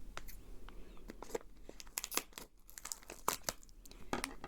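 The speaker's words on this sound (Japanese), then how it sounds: "ちょっと開けていきます。 ハサミでね。" A chocolate choux snack package being cut open with scissors, a run of quiet, close crinkles and sharp snips in an irregular rhythm, with no voices.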